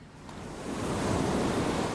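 Ocean surf off the coast of Fiji rolls in as a steady broadband wash, starting softer and swelling louder over two seconds, with no voices.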